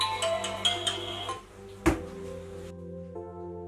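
A melodic phone ringtone plays in a Konkani short film, a run of clear electronic notes sounding close and steady, with a brief knock partway through before the tone carries on alone.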